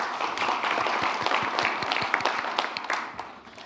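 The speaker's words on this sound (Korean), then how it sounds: "박수 감사합니다" Audience applause at a stock exchange event attended by the president: dense, sustained clapping from a crowd that holds steady, then thins slightly toward the end, with no talking over it.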